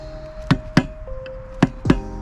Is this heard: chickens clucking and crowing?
no